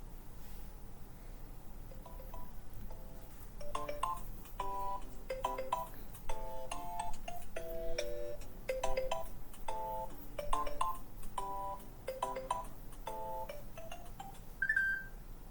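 Origin sound of the Kuwait 1990 EAS alarm: a sequence of short, clear electronic tones in a melodic, ringtone-like pattern, repeated over a low steady hum and ending on a sustained beep.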